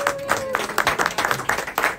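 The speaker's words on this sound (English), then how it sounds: "please, everybody, put your hands together and give a round of applause to Dalia" An audience in Miami applauds a Cuban cigar roller, a brief burst of scattered hand claps at moderate volume, with a faint voice trailing off at the very start.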